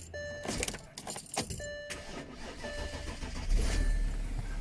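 A Volkswagen car engine cranks and catches, with keys rattling near the start, then settles into a steady low idle that grows slightly louder toward the end.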